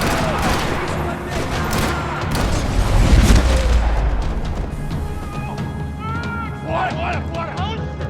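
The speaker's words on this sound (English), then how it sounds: "Another parking lot rattling with gunfire." Heavy gunfire in a parking lot in the Max Payne 3 video game: dense rattling bursts and booms over a loud, continuous game soundscape, with a voice talking over parts of it.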